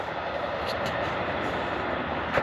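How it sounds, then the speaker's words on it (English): A steady, rumbling roar of a passing passenger train fills the whole clip, broad and continuous, with faint rattling clicks on top. "And that must be a passenger train."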